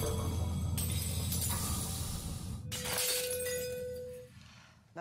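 Drinking glass shatters under a guitar's resonant note: a loud crash of breaking glass, a brief ringing tone, then scattering debris that fades out.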